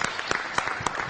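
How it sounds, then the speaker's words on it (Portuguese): Brief, faint audience applause at a municipal council session in Florianópolis, a thin patter of hand claps heard from a distance over a few seconds. "Vamos aplaudir a Sandra Pereira Sutil!"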